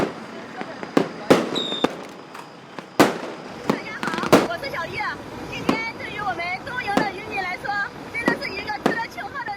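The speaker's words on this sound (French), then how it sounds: "Des feux d'artifice éclatèrent, apportant leur bénédiction pour une nouvelle expédition." Sharp firework bangs and crackles burst irregularly, several loud cracks, mixed with voices chattering in the background outdoors by a boat at sea.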